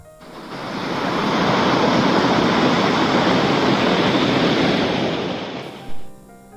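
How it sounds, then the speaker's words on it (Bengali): Water pours from a small man-made waterfall in the Dalma Wildlife Sanctuary, a constant loud hiss and roar heard up close that swells, holds for several seconds, then drops off after a brief bump. "এখানে ছোট্ট একটা ঝর্ণা দেখতে পেলাম,"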